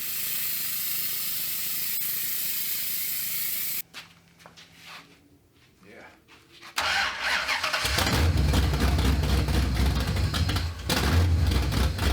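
Pneumatic air tool on a 1969 Dodge Super Bee during a brake master cylinder job, starting with a loud steady hiss, a brief drop to quieter clatter, then a louder sustained roar of the running tool close by.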